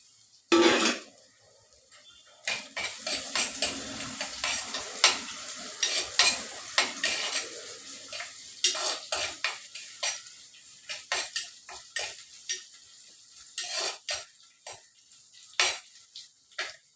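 Ingredients sauté in a pan under a soft sizzle while a spoon stirs and scrapes in irregular clinks and taps, close and fairly loud, with no one speaking.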